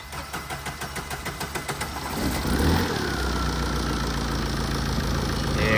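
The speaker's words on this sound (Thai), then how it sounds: "เครื่องติดนะลากยาวหน่อย" A Tata truck engine, just reassembled after a no-start fault, cranks with a rapid pulsing rhythm for about two seconds, then catches and settles into a loud, steady idle close by.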